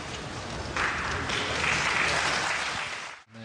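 Snooker crowd applauding Ronnie O'Sullivan's century break, a sustained wash of clapping that swells after a moment and holds steady before cutting off abruptly, with a commentator's voice faintly underneath.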